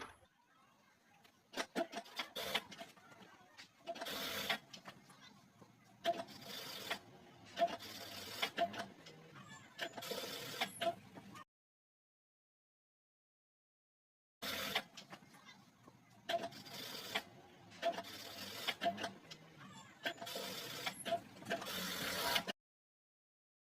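Sewing machine stitching a decorative neckline design on a garment, running in several bursts of rapid mechanical clatter separated by short pauses, with a longer silent gap midway before stitching resumes.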